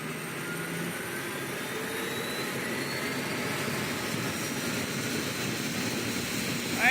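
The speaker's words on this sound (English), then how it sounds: "we're going to start our engines here now, as we have to do that before we get into the air, obviously" Airliner jet engines spooling up during start in the Project Flight game, a steady whining roar that builds gradually and holds, heard alone without speech.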